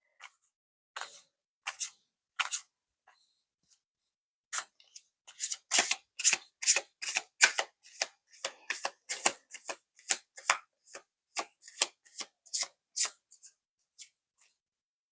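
Tarot cards shuffled by hand in sparse flicks at first, then a fast run of crisp riffling snaps, close and clear with no voice over them.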